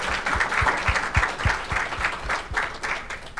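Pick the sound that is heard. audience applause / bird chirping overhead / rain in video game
audience applause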